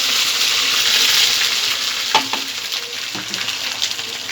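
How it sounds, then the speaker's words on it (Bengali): Ginger-garlic paste sizzles loudly in hot oil for a Bangladeshi sweet-sour mango pickle, a steady bright hiss with a few utensil scrapes and taps near the end, and no voices. "এই যে রসুনটা আর আদাটা দিয়ে একটু ভেজে নেব"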